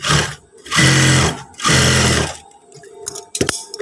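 A sewing machine stitches a seam on trousers in three loud, close bursts of rapid whirring separated by brief pauses, followed by quieter fabric handling and a few clicks.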